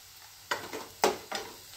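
Spiced vegetables with red chili powder, turmeric and masala stirred in a frying pan, three or four distinct scraping stir strokes over a faint sizzle, close and fairly quiet.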